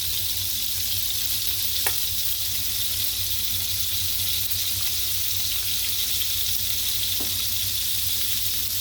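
Steady, close sizzling of a ponzu dish frying in a pan, with a couple of faint scraping sounds from stirring, no voices.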